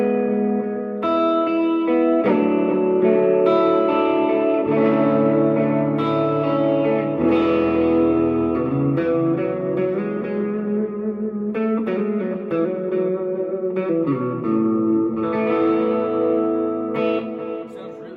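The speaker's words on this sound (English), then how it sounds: "let's go a little bit deeper on the reverb here and get it real washed out. Add some more repeats to the delay" Guitar played through a three-pedal rig with deep, washed-out reverb and a delay set to many repeats, sustained notes blurring into a continuous loud wash with trailing echoes throughout, no voices.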